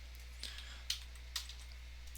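A few separate key clicks on a computer keyboard while a number is entered, faint and sparse against a quiet steady hum, with no talking.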